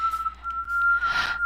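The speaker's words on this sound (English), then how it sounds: "My bird's starting to sing along" A pet bird whistles a steady, sustained high note, close and clear, with a brief breathy rustle near the end.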